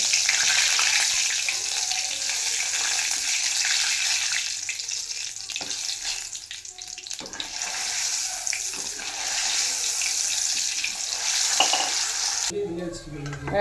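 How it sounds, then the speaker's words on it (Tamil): Curry leaves fry in hot oil with a loud, steady sizzle and crackle that lasts throughout, then cuts off abruptly near the end, with no one talking. "இதில் நம்ம கருவேப்பிலையை ஆட் பண்ணி நல்லா பொரிச்சு எடுத்துக்கலாங்க."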